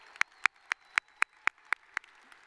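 Light, slow clapping at a high school graduation ceremony, with roughly nine crisp, evenly timed hand claps that fade slightly toward the end. The claps are close and few, like a handful of people rather than a full crowd.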